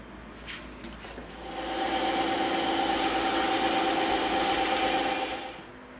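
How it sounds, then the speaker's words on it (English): A bandsaw runs and cuts EVA foam, a steady close mechanical whir that rises as the blade takes the foam and holds for a few seconds before easing off. "now we're gonna cut the rest of this also on the bandsaw"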